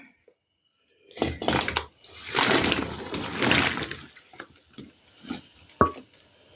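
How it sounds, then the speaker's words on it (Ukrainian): Boiling water churns and hisses in bursts, loud and close, fading into a few softer bubbling pops and a sharp clink near the end. "Вода закипіла."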